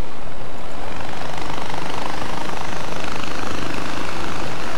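In the video game Far Cry 4, a helicopter gives off a loud, constant, dense roar and rotor wash that fills the whole stretch. No voices are heard.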